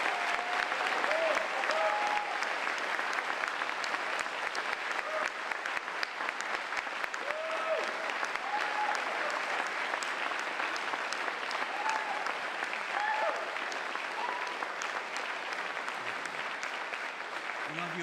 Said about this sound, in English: I would like you to stand up and give him a big round of applause